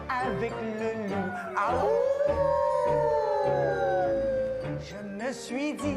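A wolf howls in a night forest scene of a French children's cartoon, a long sustained wailing note rising and bending over a few seconds, set over music with other tonal voices around it.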